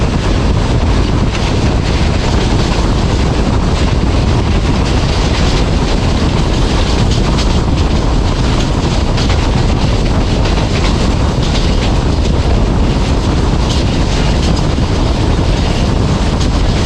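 A passenger train runs on rails near Sohawa railway station, a loud, continuous rumble with rattling carriages and wind roar throughout, heard from inside an air-conditioned parlour car early in the morning.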